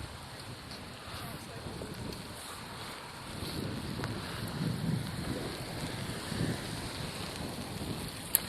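Rain falls on a Toronto bicycle ride home on a rainy Halloween evening, a steady wash of hiss and wind noise with a faint voice underneath.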